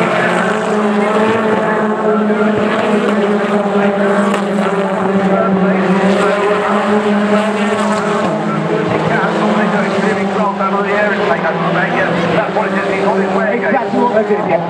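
BTCC touring race cars at Thruxton coming through the chicane, a dense continuous roar of engines at steady high volume throughout, with a commentator talking over it.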